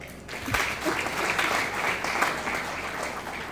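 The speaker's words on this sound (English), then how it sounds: "Then clap harder." Rotary Club members and guests clap hard during a District Governor's official visit to the Rotary Club of Kasangati, a dense steady wash of applause filling the room for several seconds without speech.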